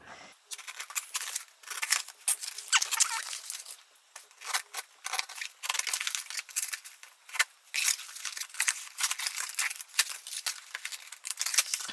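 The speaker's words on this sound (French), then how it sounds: "Je suis obligée de m'armer du stylo, de m'armer des ciseaux." Scissors snip and slice repeatedly at close range through a heavily taped parcel, with crisp cutting strokes and crinkling packaging in an irregular rhythm.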